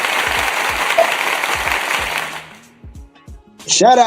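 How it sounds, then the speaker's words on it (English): Applause sound effect dropped in by a commentator, a dense burst of clapping for about two and a half seconds that cuts off, followed by a voice speaking. "I gotta give a applause effect on that motherfucker"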